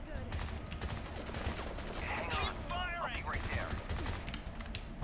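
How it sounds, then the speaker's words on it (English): Rapid machine gun fire in the shooter Bright Memory, dense bursts of shots over a busy mix of game effects and a few electronic chirps, with a voice talking over the action. "I got a machine gun now"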